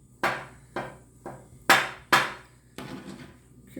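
Five sharp knife chops through İzmir tulum cheese on a cutting board, spaced irregularly about half a second apart, close and crisp, followed by softer rapid cutting.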